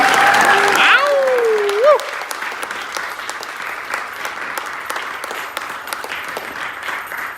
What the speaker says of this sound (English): Can we give Cooper a round of applause for that first dance?